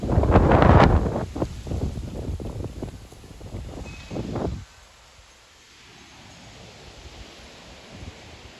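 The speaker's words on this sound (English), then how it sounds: "That's probably 50 to 60 mile an hour wind gusts." Strong gusts of 50 to 60 mph roar during an evening thunderstorm with light rain, buffeting the microphone loudly for about four seconds before dropping to a low, steady rush of wind.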